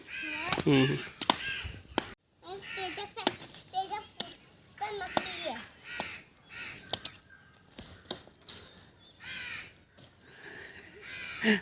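Harsh caws mingle with excited children's voices nearby, a child repeatedly imitating the crow's cawing between bursts of chatter.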